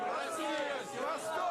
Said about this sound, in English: A large pro-Putin crowd was out in the streets of Moscow today cheering the president on.